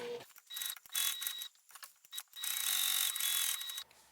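A sewing machine stitching a simple fabric card pouch runs in close, rapid mechanical bursts, stopping and starting every second or so as the presser foot is lifted.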